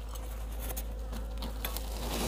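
Honeybees buzz inside an opened beehive in early spring, a steady, dense hum that stays fairly quiet and even throughout, with faint soft rustling on top.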